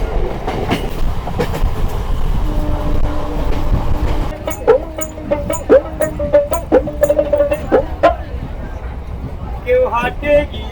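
A Barddhaman–Rampurhat MEMU local passenger train pulls away from Ahmedpur station, with a low rumbling rolling noise, a horn tone and rhythmic wheel clicks over rail joints, close and steady throughout.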